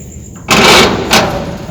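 An old door in an abandoned factory pushed open, a loud scraping, rattling burst followed by a second shorter scrape, close to the microphone over faint background hum.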